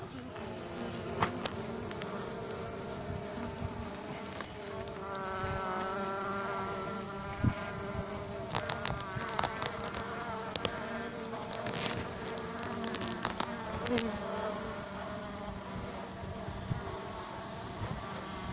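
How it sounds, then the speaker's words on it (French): Bees buzz continuously close by at a hive during installation of an adopted queen, a steady droning hum with shifting pitch, punctuated by occasional clicks and light knocks. "Sors, petite abeille, sors."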